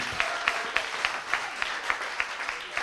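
A studio audience on a French-language TV show claps in a steady rhythmic beat, the individual claps distinct and evenly spaced but fairly faint and distant, with no talk over them.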